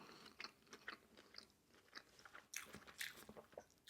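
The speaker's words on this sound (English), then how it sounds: "I was gonna say something, but still chewing." Coconut-flavored food being chewed close up, with repeated crunchy bites and wet mastication noises in an irregular rhythm, alone with no talking.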